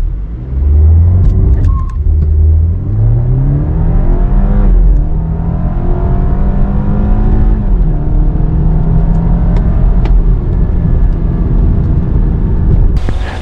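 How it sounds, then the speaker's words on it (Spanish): A 2021 BMW 320i M Sport sedan launches from standstill at full throttle, its engine note climbing loud and close through successive gear changes, dipping briefly at each shift before rising again. "pisamos freno y acelerador a fondo y a ver qué pasa"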